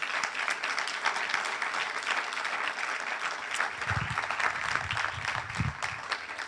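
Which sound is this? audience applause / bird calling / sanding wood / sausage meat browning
audience applause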